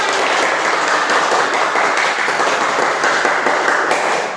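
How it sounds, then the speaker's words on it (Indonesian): Classroom pupils clapping together in a computational-thinking lesson, a dense, continuous patter of small hands lasting a few seconds at steady volume, with no talk over it. "Tepuk tangan untuk kita semua."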